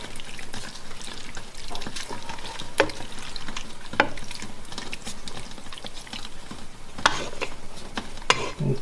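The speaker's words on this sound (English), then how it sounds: "going to now add the chicken in. Okay, and stir it in a little bit." Chicken pieces for tikka masala are stirred in a frying pan, with irregular scraping clicks and knocks over a low sizzle.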